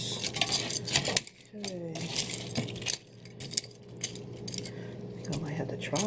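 Small metal tongs click and clink as they handle chicken wings from an air fryer, producing sharp, irregular taps under some background noise, with brief voice sounds between them.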